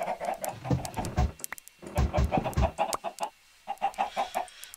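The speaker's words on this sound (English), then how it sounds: "Can't have them chickens climbing up out of there." Chickens in a city-building video game give short clucks in uneven bursts, fairly close and clear, with brief pauses between the clusters.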